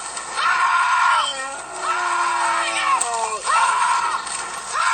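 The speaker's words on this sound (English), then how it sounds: "That's the woman screaming, by the way." A woman screams in long, repeated high wails, three drawn-out cries with shaky, breaking pitch, loud and close with a faint sloshing noise underneath.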